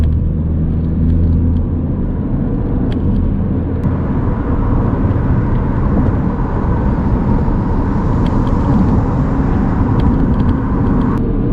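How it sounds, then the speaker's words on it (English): A car accelerating hard up to speed to merge onto a busy UK dual carriageway, with a steady, loud engine and road rumble running continuously throughout. "Ben does a good job of getting up to speed here, which makes it much easier to merge into the traffic on the dual carriageway"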